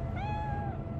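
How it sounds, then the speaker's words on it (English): In Cyberpunk 2077, a pet cat gives a single clear, rising-and-falling meow lasting under a second, close and distinct over a low background hum. "it meows at you too"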